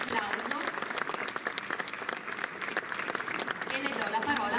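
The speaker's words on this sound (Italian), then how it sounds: "con un applauso" An indoor audience gives sustained applause to welcome a candidate at a municipal election list presentation, dense clapping that holds steady throughout, loud and close.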